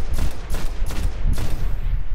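Weapon fire from the Hygiea Noblesse in Destiny as it is shot at an enemy: a string of loud, sharp, rapid shots in quick succession, close and alone without talk.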